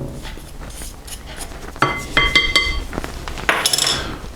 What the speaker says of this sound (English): Make sure we get all of that olive oil out of the spoon.